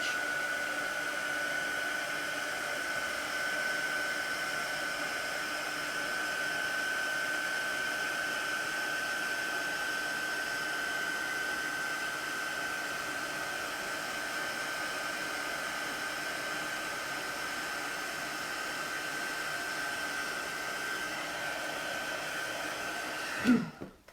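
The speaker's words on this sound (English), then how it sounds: "hold my heat gun still, and then as soon as I see that powder go from like a dull grey to a lovely bright silver" A heat gun blows steadily for over twenty seconds while melting embossing powder on a card, a constant whooshing hum with no speech, ending in a brief clunk as it shuts off.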